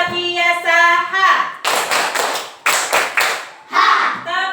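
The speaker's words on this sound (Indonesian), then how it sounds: "Tepuk luar biasa." Schoolchildren clap the 'tepuk luar biasa' rhythm in loud, close bursts of quick claps, alternating with a teacher speaking and children shouting the chant's syllables.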